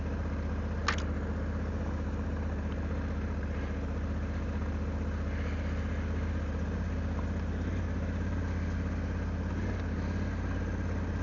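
A vehicle engine runs on an ancient unclassified road, an old lane near Halstock in Dorset, giving a steady low idling rumble that continues unchanged throughout, with a brief click near the start.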